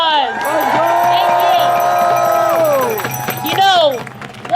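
A rally crowd claps and cheers for a rabbi, steady loud applause with whoops and shouts filling the whole stretch, swelling again near the end.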